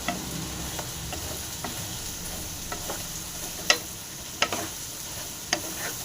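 Ridge gourd fries in a pan with a steady, close sizzle, and scattered clicks and taps come from a spoon stirring against the pan.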